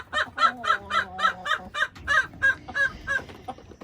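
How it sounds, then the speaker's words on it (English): Roosters kept in a farm animal barn give a rapid run of about ten evenly spaced, loud calls close by, followed by a few looser ones. "So these are the remaining roosters that I have left."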